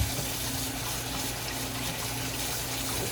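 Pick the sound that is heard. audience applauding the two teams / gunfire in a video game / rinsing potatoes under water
rinsing potatoes under water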